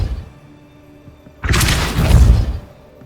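After a quiet, low-humming stretch, a single forceful Depulso spell impact in Hogwarts Legacy bursts in suddenly, a loud broad whooshing blast that rumbles for about a second before fading.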